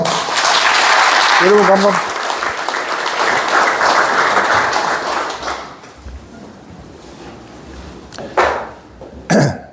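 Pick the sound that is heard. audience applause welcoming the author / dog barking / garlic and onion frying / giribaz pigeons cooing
audience applause welcoming the author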